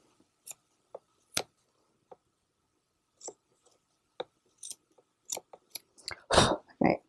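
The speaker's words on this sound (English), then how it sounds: "I'm just going to trim off some of this because I got some fraying edges." Scissors trimming fraying edges of upholstery fabric, a series of crisp, close snips at irregular intervals, growing denser and louder toward the end, with no talking.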